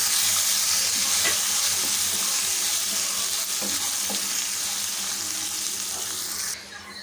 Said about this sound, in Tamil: மிளகா எல்லாமே எண்ணெயில் அப்படியே வருபடட்டும்